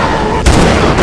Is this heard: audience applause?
no